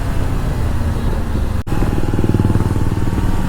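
Kawasaki Ninja 500 motorcycle engine running steadily near the listener, a dense continuous rumble with a brief dropout midway and a slight pulsing toward the end.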